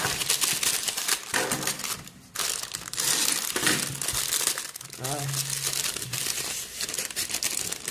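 US army ration packet being torn and opened on a table, loud close crinkling and crumpling of packaging in bursts, with someone talking in French between the rustles.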